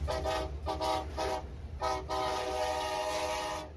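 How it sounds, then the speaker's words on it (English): An Alaskan train's horn sounds in several long blasts with short gaps, loud and echoing over the low rumble of the passing train along Turnagain Arm. "You'll even get a chance to maybe hear that famous Alaskan train go by."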